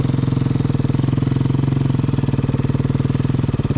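Simson 100cc motorcycle with engine damage chugging with a steady, even low thump as it pulls off slowly, close and loud throughout, no speech.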